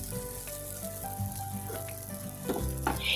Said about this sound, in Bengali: একটু বাটার দিয়ে আমি সিমাইগুলি ভালো করে একটু ভেজে নিব।